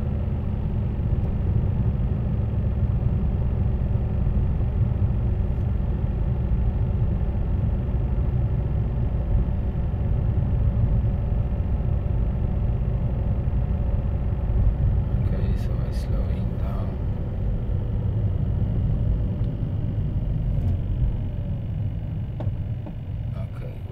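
A car engine runs steadily as the car is driven through town traffic, a continuous low rumble that stays even throughout, with a person talking over it.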